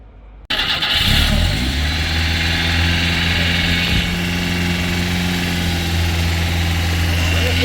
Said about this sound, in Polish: czas na odpalenie silnika pierwszy raz